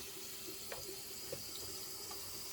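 A faucet runs steadily into a bathroom sink while a cleanser is emulsified with water during a nighttime skincare routine, giving a quiet, continuous trickle with a few faint clicks and no talking.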